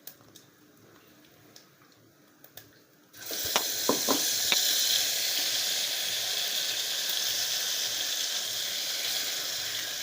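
Prepared gravy hits a hot pan of village-style spicy brinjal curry and erupts into a loud, steady sizzle that holds to the end, after a few quiet ticks and clinks.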